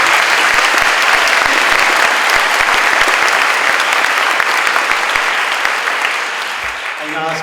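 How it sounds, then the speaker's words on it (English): Sustained audience applause fills an auditorium for students, steady loud clapping from a large crowd that holds for several seconds before tapering slightly, with a few voices mixed in. "How about another round of applause for our students?"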